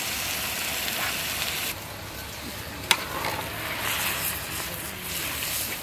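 Curry leaves crackle and sizzle in hot tempering oil for a butter mutton gravy, a continuous close hiss with one sharp pop partway through and no talking.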